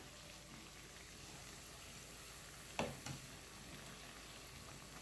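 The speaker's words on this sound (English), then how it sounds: "So I keep turning and tossing them in the oil until they are cooked." Mahamri dough frying in hot oil, a steady broadband sizzle throughout with two brief clatters near the middle as the pieces are turned and tossed.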